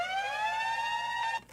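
A siren sample in a hip-hop track holds a steady, bright electronic tone rich in harmonics, loud and alone, then drops away abruptly at the end.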